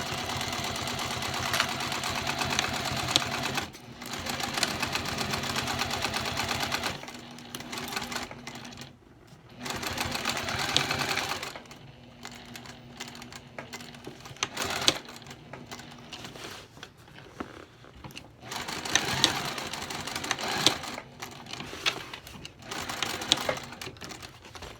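A sewing machine stitches the side seams of a wide tote bag in several long runs, with short pauses between bursts of steady, close mechanical whirring.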